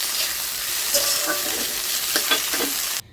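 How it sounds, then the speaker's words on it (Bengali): Coriander leaves frying with spices in a pan for a Bengali steamed prawn dish, a steady close sizzle with occasional stirring scrapes, ending abruptly. "এর মধ্যে আমি ধনে পাতাটাও ভেজে নেব"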